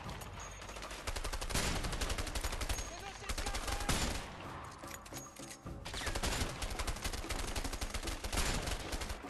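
Video game gunfire from A Way Out, dense rapid bursts of shots and automatic fire filling the whole stretch, loud and close with brief gaps and a voice talking underneath.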